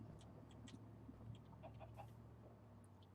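Chickens in the Minecraft Better than Wolves mod give short scattered clucks over a steady low hum, with no talking.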